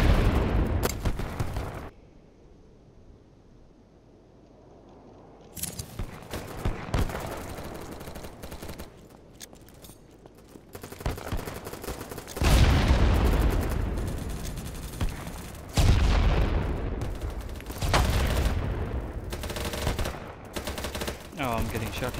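Gunfire in BattleBit Remastered, starting with a near burst, then a quiet lull before repeated automatic fire and heavy impacts build up, loud and close, with brief talk mixed in.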